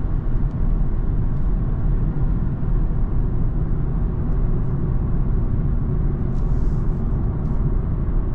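A BMW G20 330i coasts in neutral on the drive home, giving a steady low road and tire rumble inside the cabin that stays even throughout with no engine rise.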